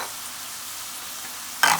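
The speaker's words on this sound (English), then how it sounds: "I'm going to go in with 2 tablespoons of ginger garlic paste." Ginger garlic paste for vegetable biryani hits a hot pan with a sudden short sizzle after a steady low kitchen hiss.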